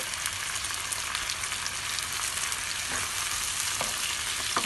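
Tomatoes sautéing with onion and garlic in a pan, a constant bright sizzle with occasional stirring clicks from a utensil, close and loud.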